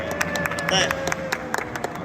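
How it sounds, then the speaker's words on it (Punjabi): Rapid, uneven hand clapping from a small group close by, mixed with cheerful voices and background chatter. "ਤਾੜੀਆਂ ਹੋ ਜਾਣ ਤਾੜੀਆਂ ਹੋ ਜਾਣ"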